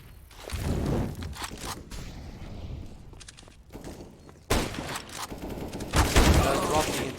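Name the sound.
gunshots in CS:GO video game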